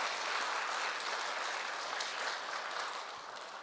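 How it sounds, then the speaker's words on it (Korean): A Won Buddhist temple congregation claps together in sustained, even applause that fills the hall and fades slightly toward the end, with no voices over it. "지금 큰 박수 한번 부탁드립니다"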